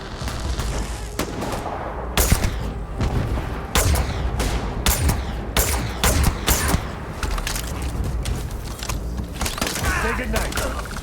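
Rapid gunfire in the space game Starfield, with repeated sharp bursts and booms at irregular intervals over about eleven seconds, mixed with game sound and occasional voices.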